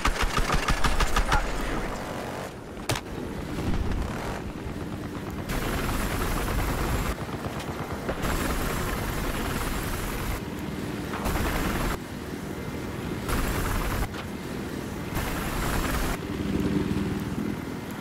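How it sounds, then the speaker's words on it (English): A transport helicopter in the Battlefield Hardline video game thrums with a steady rotor chop through a stormy battle. Gunfire bursts and other combat noise come and go around it. "I see a transport chopper!"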